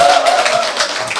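Hand clapping during a lecture, a quick run of sharp, close claps in a brisk rhythm that fills the short moment without any talk.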